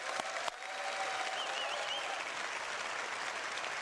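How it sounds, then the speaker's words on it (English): A crowd claps in continuous applause, a dense, even patter of hands that holds steady throughout without voices over it. "please give a round of applause for Leah, please."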